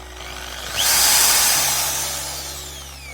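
A Maktec MT80B electric drill revs up sharply, whining loudly at high pitch, then winds down gradually while still running; no voices.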